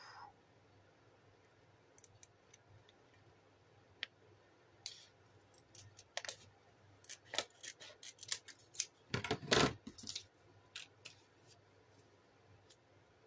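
Scissors cutting paper for a scrapbook page, a quiet sequence of close snips and crisp clicks that grows busier toward the end, with a loud rustle midway.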